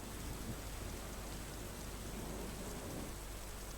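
Steady heavy rain with thunder in Limbdi, Surendranagar, a dense continuous hiss with a low rumble underneath, unbroken and fairly quiet.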